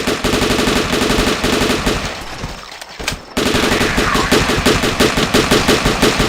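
An AK rifle fires in a survival video game in rapid sustained automatic bursts, loud and close, with a short pause mid-clip before the shooting resumes.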